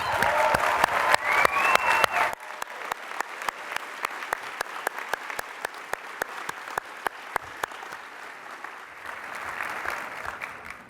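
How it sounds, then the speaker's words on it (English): An audience applauds Ron Reed at an SXSW EDU welcome session: a loud burst of dense clapping for about two seconds, then a thinner patter of scattered claps that keeps going to the end. "Let's give him a round of applause."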